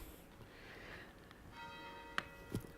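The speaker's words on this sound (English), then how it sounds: "The bells are ringing." Bells ring faintly in the distance, sustained soft tones layered over a quiet room, with a couple of sharper knocks near the end.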